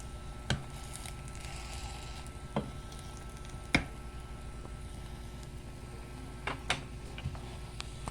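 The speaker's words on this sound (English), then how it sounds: "Really sizzling hot." Slices of Tulip luncheon meat fry in a pan with a steady soft sizzle, broken by a few sharp pops and spatula taps, heard close up with no talk.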